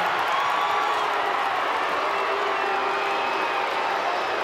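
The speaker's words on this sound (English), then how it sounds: "Well, you can hear what the crowd thinks about that." Stadium crowd at a women's State of Origin rugby league match between NSW and Queensland, a loud sustained roar of reaction filling the ground after a bunker ruling, steady and dense throughout with no clear individual voices.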